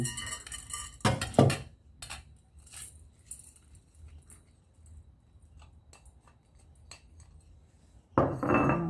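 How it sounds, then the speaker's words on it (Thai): Puffed green rice flakes tumble into a mixing bowl with dry rustling and light clinks, bursts of pouring at the start and end and scattered small taps between, close and fairly quiet. "เราก็จะเอาข้าวเม่าใส่ลงไปในชามผสมก่อน"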